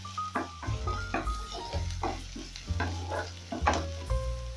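Ingredients fry and sizzle in a pan while cooking scrambled eggs, a soft crackle under repeated clinks and scrapes of a utensil stirring, with music playing and no speech.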